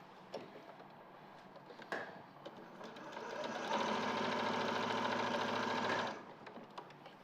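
A sewing machine stitching a bag, heard as a steady rapid mechanical whirr for about two seconds, preceded by faint clicks and handling noises, close but fairly quiet.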